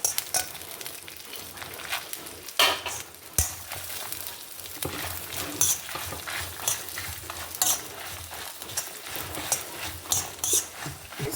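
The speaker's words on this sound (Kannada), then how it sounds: "ಸಾಸಿವೆ ಹೊಟ್ಟುವಾಗ ಕೊತ್ತಂಬರಿ ಹಾಕೊಂಡ್ಬಿಡೋ ಎರಡು ಟೇಬಲ್ ಚಮಚ ಕೊತ್ತಂಬರಿ ಹಾಕೊಂಡಿದೆ" Mustard seeds and coriander seeds sizzle and crackle in a hot pan while being stirred, a continuous close frying hiss punctuated by sharp pops and scraping spoon strokes, with no talking.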